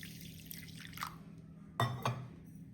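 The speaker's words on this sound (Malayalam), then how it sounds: "നമുക്ക് ഇതിലേക്ക് കുറച്ച് പാൽ ഒഴിച്ച് കൊടുക്കാം" Cold milk poured into a bowl of sugar for a milk-based juice, faint close splashes and drips with a couple of brief louder glugs near the end, quiet and alone.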